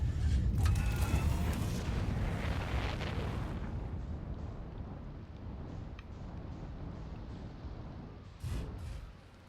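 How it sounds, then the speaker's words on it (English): A star exploding in Outer Wilds: a deep, rumbling roar that swells at first, then slowly fades into a long low rumble, with a brief boom near the end. "star just exploded"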